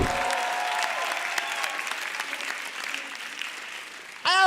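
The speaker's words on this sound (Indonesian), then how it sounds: "tepuk tangan sekali lagi untuk G Pamungkas" An audience at a stand-up comedy show gives comedian G Pamungkas a sustained round of applause, dense clapping that fades gradually before a sudden loud swell of sound at the end.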